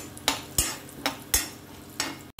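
Tempering spices with red chilli frying in oil on a low flame: a low sizzle broken by four or five sharp, close crackling bursts at uneven intervals.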